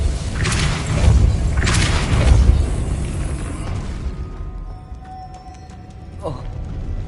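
Depulso spell cast in Hogwarts Legacy, heavy booming thumps and whooshing blasts up front that fade into a quieter spell hum with a faint tinkling ring near the end.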